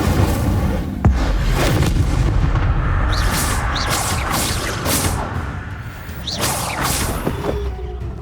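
Spells such as Levioso, Accio and Incendio cast in the Hogwarts Legacy video game, a run of deep booms, whooshes and sharp magical bursts over a loud rumbling bed, one crack near the start and swishing flares later.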